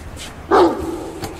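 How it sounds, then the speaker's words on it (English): A dog gives a single sharp bark at close range, followed by a brief low whimpering tail and quiet background. "He wouldn't bark if there weren't somebody there"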